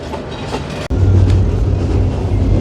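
Heard from inside an AC cabin car, a train pulls away from Bogura station with a steady low rumble of wheels on track and a faint rhythmic clatter, after a brief sharp break near the start.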